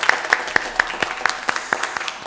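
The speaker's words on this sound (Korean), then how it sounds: "우리 박수로 영광을 하나님께" A church congregation at a Sunday family worship service applauds, with crisp, evenly spaced claps standing out in a regular beat over a softer background of clapping.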